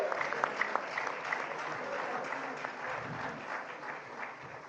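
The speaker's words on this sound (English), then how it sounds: "He deserves another round of applause." A crowd keeps up steady applause after a political address by presidential candidate Atiku Abubakar on the 2023 Nigerian election outcome, with dense clapping and a few sharper claps at the start.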